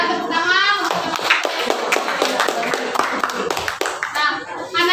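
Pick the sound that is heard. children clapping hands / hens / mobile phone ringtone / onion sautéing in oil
children clapping hands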